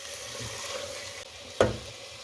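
Aloo methi curry simmers with a soft sizzle as a spoon stirs through the potatoes and fenugreek in a pan, ending in one sharp metallic clink against the pan's side; no voices.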